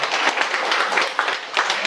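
A lecture audience claps in welcome for a visiting priest, a dense continuous patter of many hands, moderately loud and even, with no voices over it.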